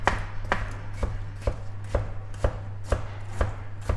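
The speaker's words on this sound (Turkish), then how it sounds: "Bunları da ince ince doğruyorum." A knife chops gherkin pickles steadily on a cutting board, about two crisp taps per second, close and clear over a low hum.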